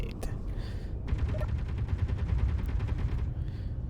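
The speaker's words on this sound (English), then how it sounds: "there go our turrets. Doing what turrets do" Defensive turrets on a ship in the space video game Space Engineers, opening up in a sustained rapid stream of shots that lasts a couple of seconds over a low rumbling background.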